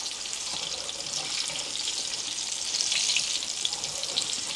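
Turkey pieces frying in hot oil in a home kitchen, making a steady, dense sizzling hiss that swells slightly midway, close and continuous with no talking.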